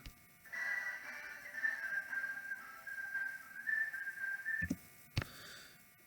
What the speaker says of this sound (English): one of the best whistling segments you'll hear in any song